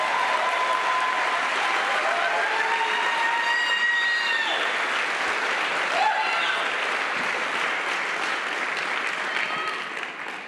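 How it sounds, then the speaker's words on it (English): Loud, sustained applause from a large audience at an Ignite Seattle talk event, dense clapping with a few cheers throughout, fading slightly at the end. "Give yourselves a round of applause."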